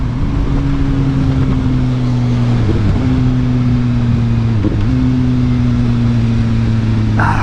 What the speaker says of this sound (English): Let's try some downshifting again.